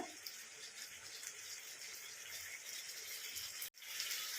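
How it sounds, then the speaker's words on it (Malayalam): Soft, steady bubbling and hiss of water with jackfruit seeds beginning to boil in a covered pot, close by and fairly quiet, with no speech. "ഇതാ തിളയ്ക്കാൻ തുടങ്ങിയിട്ടുണ്ട്"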